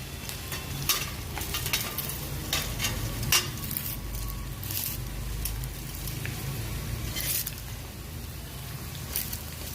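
Curry leaves hit hot oil with a steady close sizzle, broken by sharp crackling bursts and stirring scrapes that come and go over the frying.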